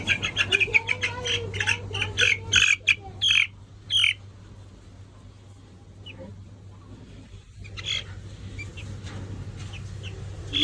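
Little farm chicks peep and squawk in a rapid burst of shrill calls, then a few scattered chirps over a steady low hum, close by, with a quiet stretch in between.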